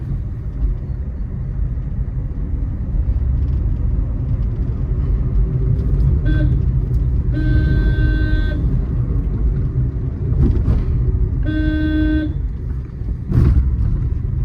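A car in third gear rolls through a narrow lane with a steady, loud engine rumble throughout, and a horn toots twice briefly in the middle.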